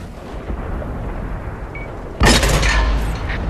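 A Type 95 heavy tank's cannon fires in World of Tanks, one sudden loud boom over a constant rumbling engine background, trailing into a long roar.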